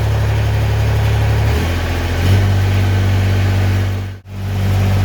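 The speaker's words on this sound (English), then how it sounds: "I'm going to start the tractor up and I'm going to let it warm up until at least the engine's at operating temperature." Kubota tractor engine idling while warming up, a loud close steady diesel hum with a low drone that shifts pitch slightly, briefly cutting out for a moment near the end before resuming.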